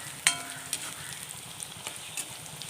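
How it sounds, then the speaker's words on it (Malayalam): Mango ginger frying in oil, a quiet, sparse sizzle with a few crisp crackles and a sharp clink near the start, close by and with no talking. "ഇനി ഒന്ന് മൂപ്പിച്ച് കോരിയെടുക്കുക ഇപ്പം മാങ്ങ ഇഞ്ചിയൊക്കെ നന്നായിട്ട് മൂത്തിട്ടുണ്ട്"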